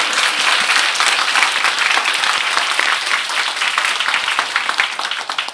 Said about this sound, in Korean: 섬긴 분들 수고했다고 격려의 박수 한번 보내주시면 좋겠습니다